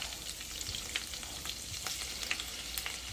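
Shrimp sizzle and fry in a hot pan for seafood scampi pasta, a steady crackling hiss with small sharp pops scattered throughout, close and continuous with no voices.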